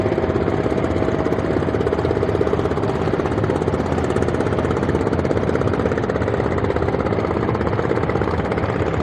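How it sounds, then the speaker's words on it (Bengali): Three trawler boats travel together carrying worshippers away from the Bishwa Ijtema grounds at Tongi, their engines forming a loud, continuous throbbing drone that holds steady throughout, with no voices. "একসাথে তিনটি ট্রলার এই যে যাইতেছে সমন্বয় করে তিনটি ট্রলার একযোগে যাচ্ছেন"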